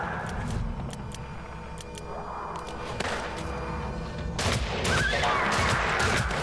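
Gunfire in the Weird West video game during a fight, with several sharp shots and bursts over continuous game background noise and no talking.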